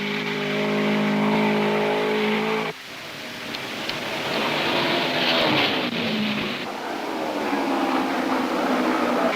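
1975 USAC Champ Car race cars at the Pocono 500 at Pocono International Raceway, their loud engines droning steadily, then cutting off sharply as one pack passes and giving way to rising, shifting engine roars from more cars sweeping by.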